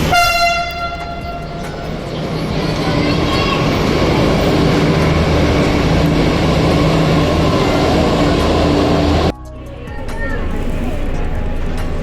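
Rumbling metro train running between stations in Dwarka, a loud continuous clatter and hum of wheels on rails inside the carriage, opening with a tonal chime and ending in a sudden drop as it slows, with announcements and talk over it.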